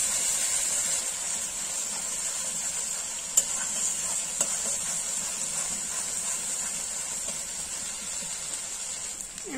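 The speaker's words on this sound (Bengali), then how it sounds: "মশলাটাকে ভালো করে কষিয়ে নেবো।" Spice paste of dried chilli, onion, cumin and ginger frying in a pan while being stirred, a quiet steady sizzle with a persistent high hiss and a couple of faint utensil taps.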